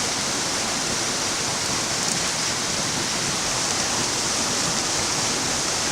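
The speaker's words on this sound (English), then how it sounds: "The wild caught Idaho spuds go into the pan with the olive oil," Potatoes browning in olive oil in a pan, a steady loud broadband sizzle with no let-up and no voices.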